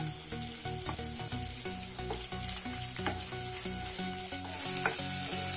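Green chillies and beans frying for egg fried rice, a loud continuous sizzle with rhythmic spatula stirring and scraping throughout, no talking.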